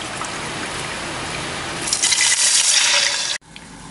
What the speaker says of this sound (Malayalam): അപ്പം ഇവിടെ ഞാൻ 6 ഗ്ലാസ് വെള്ളമാണ് ഒഴിക്കുന്നത്.